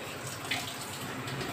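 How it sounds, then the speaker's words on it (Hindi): Soaked rice is tipped into a pot of cooked peas for matar pulao, producing a steady wet, sloshing pour, close and moderately loud. "वो चावल डाल दीजिए"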